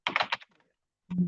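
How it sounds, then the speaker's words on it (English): Quick bursts of keyboard typing, a few close keystrokes in a row, then a pause before a dull thump. "So Isabella is typing"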